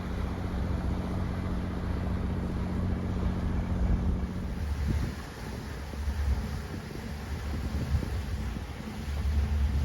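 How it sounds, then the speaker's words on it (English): A bass boat on the St. Johns River runs nearby as a steady, broad engine and hull rumble mixed with wind buffeting the microphone, dipping briefly midway before building again. "a bass boat coming up on us on our port side now"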